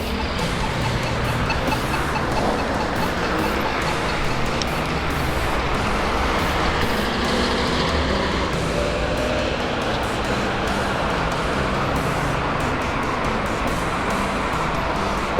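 Steady roadway traffic with cars and trucks passing by on a road, a continuous broadband roar of engines and tyres at moderate distance with no talk over it, heard from alongside the road while cycling.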